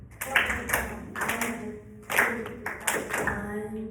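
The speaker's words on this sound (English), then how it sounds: "I'm hearing claps, but no sound from the mouth" A class of eighth-grade students claps a steady counted rhythm together, sharp group claps landing in regular pulses about every second, with soft classroom murmur underneath.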